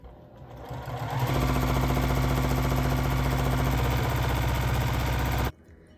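A home sewing machine runs steadily for free motion quilting, starting up, holding a fast even stitching hum with rapid needle pulses, then stopping abruptly; close and loud with no talking.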